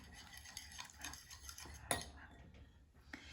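Eggs mixed with parsley and garlic being stirred in a bowl, a spoon scraping and clinking against the sides in quiet, uneven strokes, with one sharper clink midway.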